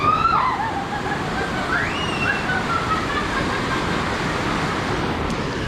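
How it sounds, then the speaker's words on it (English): Water rushing at a Lagoon amusement park water ride in Farmington, Utah, a steady broadband wash with faint high whistles or squeals early on, continuous and fairly loud with no talking. "You can see the water flowing nicely there."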